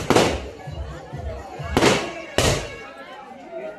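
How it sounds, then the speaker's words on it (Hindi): Three sharp firecracker bangs at a wedding, the first loudest, each cracking out with a bright burst over a busy background of voices and commotion. "हाँ पटाखा चलाएगा।"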